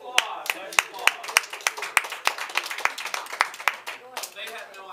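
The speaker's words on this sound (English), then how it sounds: "Nice applause. Nice applause." A live theater audience claps in a light scattering of applause, individual hand claps distinct and somewhat close, with voices talking over it.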